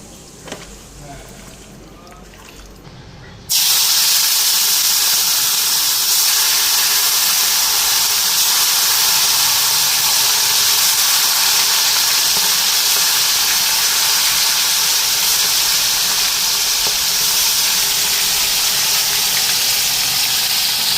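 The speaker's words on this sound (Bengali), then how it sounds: "ভালো করে মশলা মাইখা এখন ফ্রাই করুন" Chicken coated in ginger-garlic paste, green chilli and dried chilli paste with curry leaves sizzling loudly in a pan, a steady bright hiss that starts suddenly and continues without pause.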